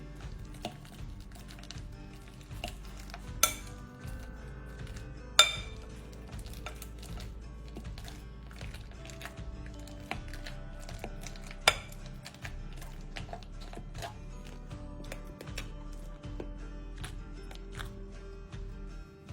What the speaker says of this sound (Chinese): 香蕉去皮后，净重800克，倒入一个较大料理盆内，再捣成泥状。